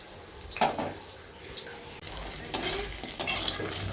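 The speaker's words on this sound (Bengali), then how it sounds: "এদিকে আমার ফুলকপির বড়াগুলো প্রায় ভাজা হয়ে গেছে" Cauliflower fritters frying in oil in a home kitchen, a soft background sizzle broken by a few louder stirring and utensil clatters near the pan.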